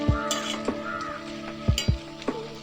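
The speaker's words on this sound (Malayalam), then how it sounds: "നന്നായിട്ട് ഇളക്കി യോജിപ്പിക്കുക." A spoon stirs aviyal vegetables coated in ground coconut paste in a pan, with several close, sharp scrapes and knocks over a steady tonal hum.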